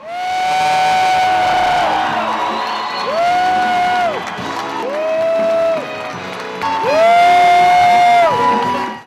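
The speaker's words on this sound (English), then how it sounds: "Hear all that whooping next to our cameraman?" A loud crowd at the Broadway opening night of the musical Wicked whoops and cheers, with rising and falling shrill cries standing out above the roar of an excited audience.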